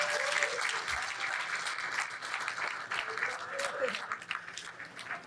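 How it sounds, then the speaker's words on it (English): Wedding guests applaud the bridesmaids at a reception, a steady patter of clapping from a gathered crowd, moderately close, with a few voices and cheers mixed in. "How about a round of applause first for the beautiful bridesmaids?"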